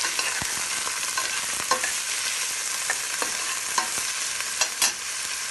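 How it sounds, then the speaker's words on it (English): Green chili and garlic sizzle steadily in a hot pan for a Kerala-style watermelon rind pickle, with constant frying hiss and a few sharp scraping stirs close by. "Saute it well."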